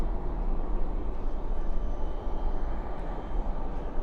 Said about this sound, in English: Spoilers up, reversers out on that 7-3.